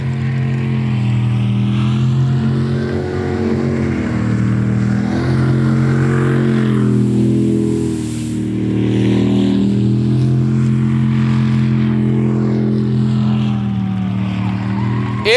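Racing boats' engines roar loud and close during an ASB drag boat race at Webbs Slough, with a sustained, droning whine that rises and falls in pitch as the boats run the course and turn.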